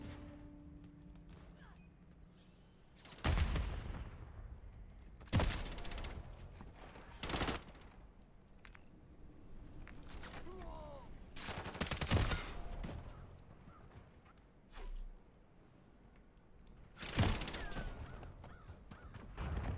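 Scattered video game gunshots crack out as sharp isolated bursts every few seconds over a quiet, low background, with soft murmured talk between them.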